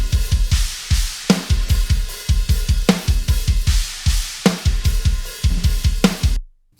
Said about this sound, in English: I did a quick bounce of the drums of one of the songs without any compression and without any reverb